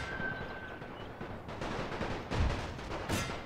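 In the Serbia campaign of The Great War, a World War I strategy game, dense gunfire and artillery bombardment rumble continuously, with loud thumping bursts rising out of a steady crackling roar.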